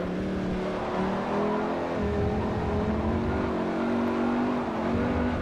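A race car engine in Forza Motorsport 4 during a Class C European Tour race, a steady loud drone holding high revs with slight pitch shifts throughout, no pauses.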